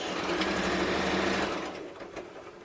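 A sewing machine back stitches along a dress seam, its steady close motor whir running for about a second and a half before easing off and slowing near the end.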